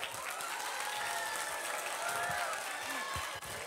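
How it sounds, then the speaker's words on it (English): Audience applause at a school literary festival for a middle-school student performing Mark Antony's monologue from Julius Caesar: a steady wash of clapping from a hall full of people, fairly distant and even throughout. "Can we have a round of applause for him?"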